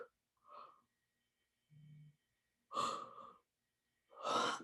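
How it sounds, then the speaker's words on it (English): Deep breaths during a guided breathing exercise, heard close as several separate airy breaths, two of them strong and forceful, with short silences between them. "So deep, deep breaths."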